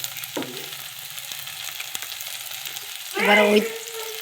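Okra frying in a little oil in a pan, a low steady sizzle with a brief clatter early on and a louder burst of frying near the end.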